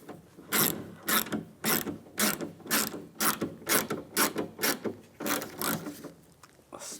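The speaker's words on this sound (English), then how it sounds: "Now I tighten this nut down." A ratchet wrench tightens a nut on a power window regulator in a 2002-2008 Dodge Ram 1500, giving a steady series of sharp, close clicking bursts repeated about a dozen times with no talk.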